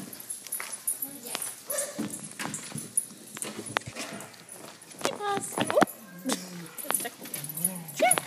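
A small dog yips and barks in short bursts, with whimpering and sharp clatter nearby, while a person talks over the commotion.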